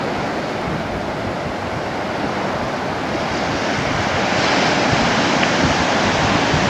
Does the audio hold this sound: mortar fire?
no